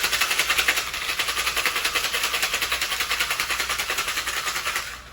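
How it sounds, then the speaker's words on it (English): Ice rattling hard inside a metal cocktail tin being shaken vigorously, a fast steady chatter of crisp rhythmic clatter that continues for several seconds before stopping. "and when you shake it, don't mess around, like really shake it."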